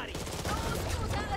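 Gunfire in the zombie shooter Back 4 Blood: dense, continuous bursts of shots filling the short clip, loud and steady without pause.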